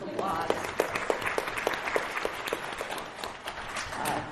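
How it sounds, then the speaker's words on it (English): A convention panel audience at WonderCon claps in a big round of applause, many hands beating quickly and fairly close, with a few louder individual claps and crowd murmur underneath before it softens. "let's give her a big round of applause."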